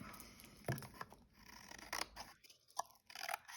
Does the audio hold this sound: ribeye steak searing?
no